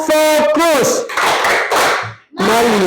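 Classroom students clap a rhythmic 'tepuk fokus' focus chant, sharp claps mixed with loud group chanting voices, close and lively.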